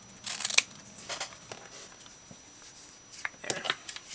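Scissors snip through a piece of fabric on a craft table. A few crisp, close cuts come in short bursts with quiet pauses between them.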